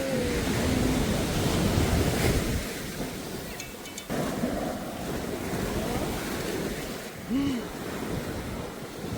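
Waves surge and wash in at St. Andrews beach in Kerala, a continuous roaring rush with wind buffeting the microphone, and faint voices now and then.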